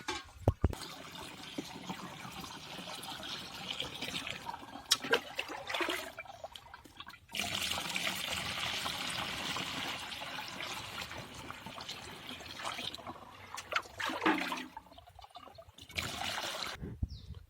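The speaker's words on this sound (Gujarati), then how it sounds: "હવે પંપ આખો પાણીથી ભરી આપવાનું." Water pouring and trickling into a farm sprayer pump tank as it is filled for an organic milk-and-jaggery spray, a steady close-up splashing that runs on with brief breaks and no talk.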